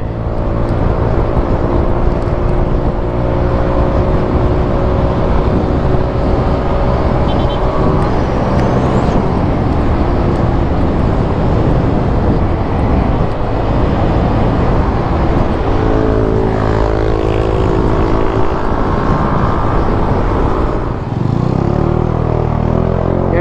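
A 2019 Vespa Sprint i-get ABS scooter ridden with the throttle held wide open, making a steady engine drone with heavy wind and road noise the whole time, while the rider talks now and then underneath.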